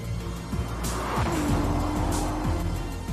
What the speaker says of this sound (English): The 296 GTB, the greenest motor vehicle ever made in Maranello